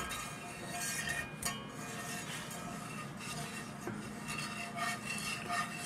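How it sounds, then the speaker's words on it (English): A spoon scraping and stirring a dark brown roux for gumbo along the sides and bottom of a pot, with steady faint rasping and occasional metallic clinks, heard alone with no voices. "Be sure to scrape along the sides of it."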